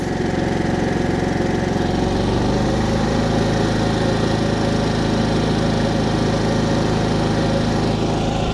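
A Harbor Freight Predator generator, the brand's largest model, running steadily with its eco mode switched off, a loud continuous engine drone and hum close by, with no talk.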